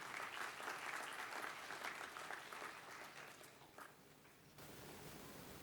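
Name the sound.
applause for graduates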